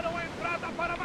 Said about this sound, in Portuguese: O mar está calmo e os ventos estão quentes.